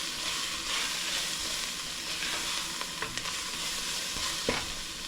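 Cumin stirred into ginger and garlic sizzling in a pan for a Moroccan soup, a steady bright frying hiss with soft scraping stir strokes close by, no voices.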